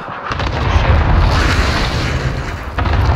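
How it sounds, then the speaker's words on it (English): Cluster strike explosions in a video game, a dense, continuous barrage of loud, close booms and rumbling blasts rolling over each other for several seconds without pause. "Cluster strike incoming."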